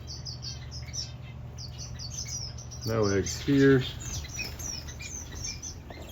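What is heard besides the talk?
aviary finches and doves chirping, agitated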